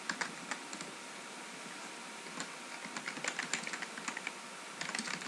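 Quiet, close typing on a computer keyboard in irregular bursts of light key clicks over a faint background hiss, with no voices.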